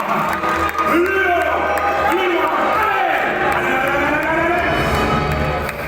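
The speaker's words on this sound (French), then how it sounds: "Un applaudissement pour l'équipe romaine" A crowd applauds and cheers for the Roman team at a team results event, with a steady wash of noise under loud overlapping voices and whoops throughout.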